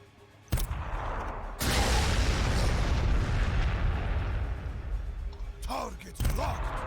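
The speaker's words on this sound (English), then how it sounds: "we can throw some frag up here." A frag grenade blast in Warhammer 40,000: Sanctus Reach with Space Wolves, a sharp bang followed by a long, loud rumbling explosion roar, then further impacts and whooshing effects near the end.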